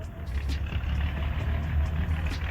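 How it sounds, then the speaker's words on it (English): A truck rumbles past at moderate distance, its low engine drone steady and fairly quiet throughout, with no talking. "There's a truck passing, so it may be loud."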